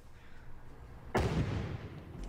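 A single loud firework blast bursts in suddenly over a quiet background, then a noisy broadband rumble lingers for about a second.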